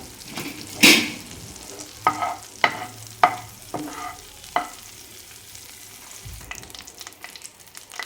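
Chopped garlic goes into melted butter in a pan, giving a low steady sizzle broken by several sharp clatters and scrapes of stirring, with no talk.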